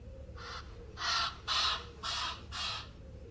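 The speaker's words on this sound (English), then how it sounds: "Seagulls." Five harsh, raspy seagull calls repeat in a steady rhythm over a low rumble of background noise, moderately distant and fairly loud.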